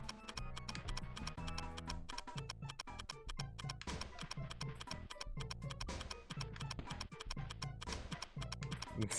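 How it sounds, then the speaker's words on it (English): A timer in the video game Gex 3: Deep Cover Gecko ticks in a fast, regular beat, mixed with a busy, loud game music track throughout. "This timer sound sucks."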